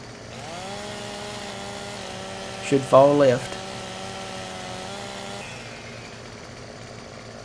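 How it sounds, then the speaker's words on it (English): A chainsaw fells a tree in Farming Simulator 17, its engine holding a steady, buzzing drone for most of the stretch before easing off near the end. Someone speaks briefly midway over the running saw. "I'm gonna cut that with a chainsaw too"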